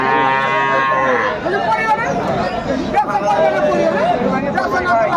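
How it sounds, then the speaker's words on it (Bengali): Cows and calves moo loudly and repeatedly up close, long drawn-out lows over a busy murmur of people talking at a crowded cattle market in Aftabganj, Dinajpur. "এখানে চমৎকার একটি গাভী বাছুর দেখছেন"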